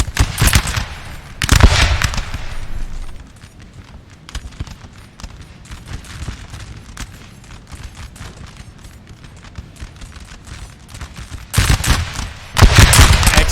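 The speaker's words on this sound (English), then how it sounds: "some volleys from the redcoats" Musket volleys from redcoat infantry in a Napoleon Total War battle: loud bursts of crackling gunfire open and close the stretch, with a thinner scatter of distant shots rattling in between.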